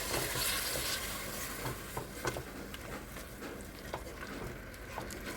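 Spices and potatoes sautéing in a pan with a little water for egg polao, a steady close sizzle broken by soft scraping stirs and light taps of the spoon, with no voices.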